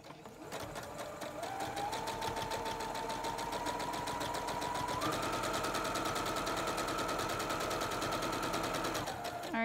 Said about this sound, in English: and then go ahead and start sewing.